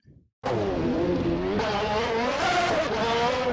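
Race car in the Assetto Corsa video game during a hot lap, engine roaring loud and continuous with shifting pitch, tires squealing over it, bursting in abruptly after a brief quiet moment and staying intense to the end.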